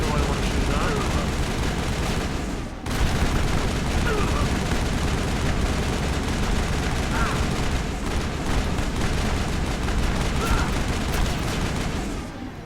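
Rapid sustained gunfire and explosions in the video game Mass Effect, a dense, loud barrage of shots and booms that continues almost the whole time with one brief gap.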